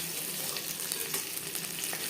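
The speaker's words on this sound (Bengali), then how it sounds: "মিডিয়াম ফ্লেমে একটা সাইড ভাজা হয়ে গেলে অপর সাইডটা উল্টে দেবো" Masala fish fries in hot oil in a pan over a medium flame, giving a steady, dense sizzle that continues evenly throughout with no voices.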